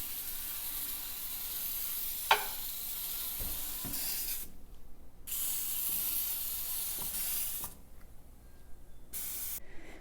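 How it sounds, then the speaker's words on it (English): Several bursts from a spray bottle of cleaning solution hit a sheet pan in a sink, close hissy sprays separated by short gaps and a few soft knocks. "put the sheet pan in the sink and give it a good spray with our cleaning"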